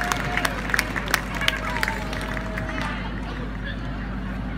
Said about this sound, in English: Come on, you can cheer for them.